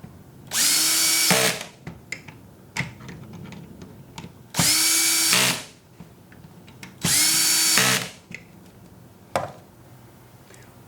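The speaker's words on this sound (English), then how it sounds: "When you're doing these top cover screws up, using a battery drill" A cordless drill whirs three times in long bursts driving the top cover screws of a pool cleaner, each ending in a brief clicking stop, with quieter knocks and handling noises between runs.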